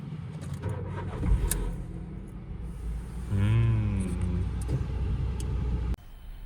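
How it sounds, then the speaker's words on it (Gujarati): A car engine runs steadily at close range with a low, constant rumble. Midway it briefly swells into a harder, revving drone, then the sound cuts off abruptly near the end. "અવાજ જોજો ખાલી અવાજ, એન્જિનનો અવાજ જોજો."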